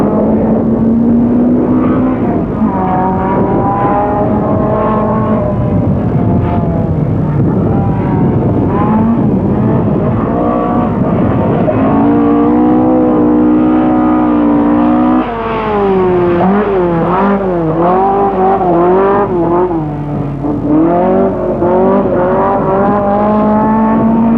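A Toyota Celica rally car in a 1985 NSW State Rally Series stage runs hard and close, its engine howling through sustained high revs with gear changes and brief lifts, loud throughout with no talk.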